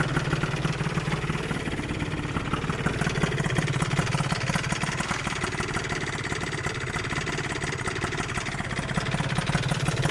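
A Zip SP scooter fitted with a Malossi 172 kit, engine idling at a steady, close, fairly loud level with a constant low rumble and light mechanical clatter, no talking.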